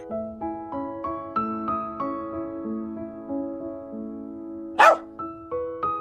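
A small dog barks repeatedly in sharp yips over a steady background melody, with one louder burst near the end.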